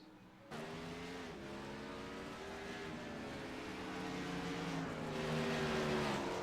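Several race cars in a racing video game circle Laguna Seca, engines droning and shifting pitch together in a steady, continuous pack roar that swells slightly toward the end.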